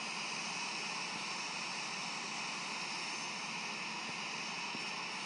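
A British Airways airliner taxis to the runway at Long Beach Airport in the flight simulator Infinite Flight, with a steady, even jet-engine whine and hum that does not change throughout.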